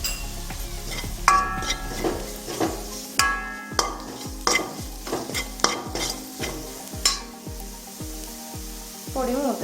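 A spoon stirs chili powder and turmeric frying in a pan for a tomato egg bhaji, with steady loud scrapes and knocks against the pan about once a second over a constant sizzle.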